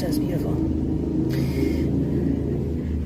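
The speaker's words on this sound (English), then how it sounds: "That noise you hear is traffic crossing the Crownpoint Bridge." Steady low rumble of road traffic crossing the Crown Point Bridge over Lake Champlain, heard continuously from nearby while a person speaks briefly.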